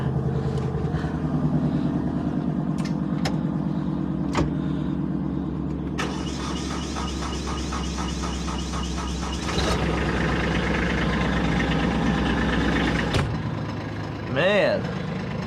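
A tractor engine runs and idles steadily for a long stretch, a low continuous rumble with a few clicks and clunks, briefly changing pitch partway through and ending with a short revving swell.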